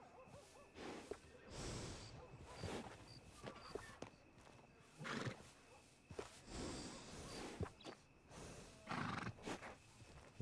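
Horses whinny and snort several times amid soft hoof clops and rustling in the video game Red Dead Redemption 2, fairly quiet with no talking.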